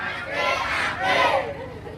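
A live audience at an outdoor Sundanese religious sermon in Kuningan, West Java, lets out a loud unified shout on cue, two swelling bursts of massed voices close together.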